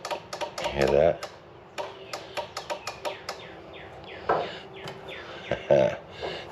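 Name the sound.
clicking from Cub Cadet RZT 42 zero-turn mower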